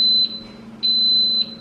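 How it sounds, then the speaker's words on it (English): A Cosori pressure cooker gives two long, high electronic beeps separated by a short pause, loud and close in a quiet kitchen while cooking chicken fajitas. "So when it beeps, it is ready to go."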